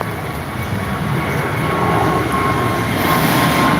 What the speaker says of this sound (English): Qantas Link A220 rolling down runway 14 on the Gold Coast, off to Melbourne.